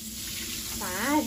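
Hot water running from a kitchen tap while dishes are washed, a steady close splashing rush that swells briefly near the end, with a voice in the background.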